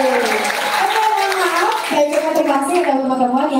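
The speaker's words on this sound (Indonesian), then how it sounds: "tepuk tangan yang semangat dan semangat lagi lah" Audience clapping at a public university lecture given by the Governor of Jambi Province, heard as a patter of hands beneath a voice speaking over it.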